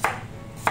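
A knife cuts through fresh cucumber on a board for a green salad, giving two crisp, close chops spaced about half a second apart with quiet pauses between.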